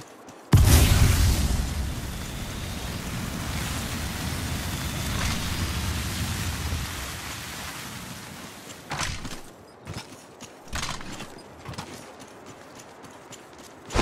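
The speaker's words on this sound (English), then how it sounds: "Thermite grenade!" In Apex Legends Mobile, a thermite grenade bursts into a loud, roaring burn that lasts several seconds. It then fades into scattered thumps and crackles of in-game action, with no voices.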